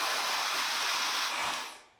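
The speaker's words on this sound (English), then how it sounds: "Blow dry it here. I'll come back here and blow dry it." A hair dryer blows steadily on hair at the roots, a loud, even, breathy rush of air that holds for nearly two seconds before trailing off as it is switched away.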